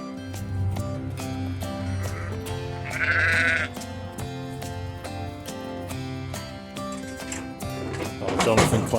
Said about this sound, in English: Farmer Andrew just using this gate to sort the sheep out.